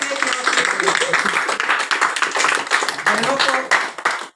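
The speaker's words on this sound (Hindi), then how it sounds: "एक बार दो तालियों के साथ ऑन द स्टेज विशाल जी बताएंगे" A live audience at a sales seminar on stage claps together, a dense, continuous patter of many hands that stays loud and steady throughout before cutting off abruptly at the end.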